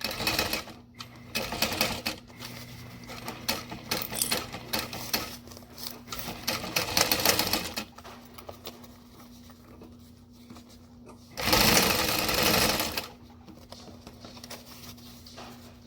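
A sewing machine bastes the lining of a backpack, running in longer stretches of steady rapid stitching with slower, quieter passages and a loud final burst, heard up close without talk.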